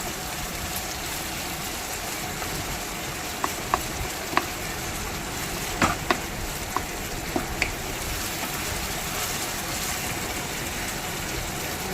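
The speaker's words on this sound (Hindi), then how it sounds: "तो ये बहुत अच्छी तरह से मेरा मसाला भुन रहा है।" Masala spices frying in a pan for chana dal khichdi, a continuous close sizzle with a few sharp clicks of stirring against the pan.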